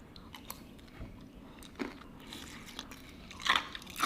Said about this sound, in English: Am I supposed to chew the ice?